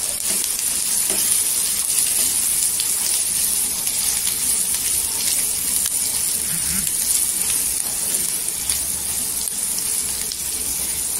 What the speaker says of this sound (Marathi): तेलावर परतून भेंडी घ्यायची.